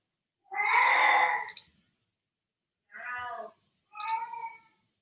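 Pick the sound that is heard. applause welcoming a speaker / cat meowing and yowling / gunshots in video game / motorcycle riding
cat meowing and yowling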